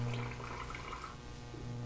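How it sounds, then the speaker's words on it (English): Rinsed rice water pours through a sieve, a brief, faint trickling rush of liquid with a low background hum. "Pour it through a sieve."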